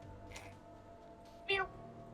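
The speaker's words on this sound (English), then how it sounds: "No, that is a cat." A cat meows once in the video game Hakuoki, a short, bright cry rising over a background of soft game music and ambience.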